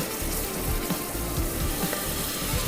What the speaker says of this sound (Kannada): ಎಣ್ಣೆಯಲ್ಲಿ ಅದು ಫ್ರೈ ಆಗಬೇಕು